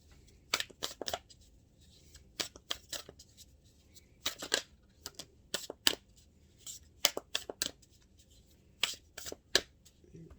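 Tarot cards riffled and shuffled in several quick bursts, with crisp slaps as cards are laid down between them, close and fairly quiet against a still room.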